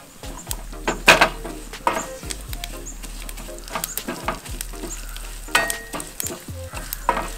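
Green chillies roasting dry in a pan for a Kerala ivy gourd chammanthi, with steady sizzling and repeated stirring scrapes and clinks, close and fairly loud, without speech.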